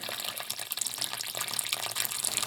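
Water runs steadily from the drain of a mobile home trailer, a continuous broadband splashing rush close by with no pauses.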